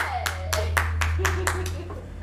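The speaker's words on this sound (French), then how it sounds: "Eh, les enfants, on peut l'applaudir." A few hands clapping in a children's cartoon, about seven distinct claps in a steady rhythm over a low hum, with a voice and other voices talking alongside.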